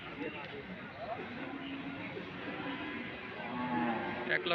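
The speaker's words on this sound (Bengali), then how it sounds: "খুবই সুন্দর একটি গরু" Cattle at a busy livestock market, with a cow lowing briefly amid crowd chatter and people talking close by.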